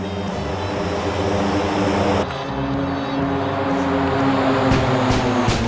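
A Hawker Hunter jet in a flight simulator game roars steadily just after takeoff, a loud continuous engine drone with a brief shift in tone partway through, heard alone without talk.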